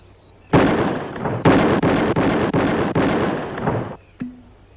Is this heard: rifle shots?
yes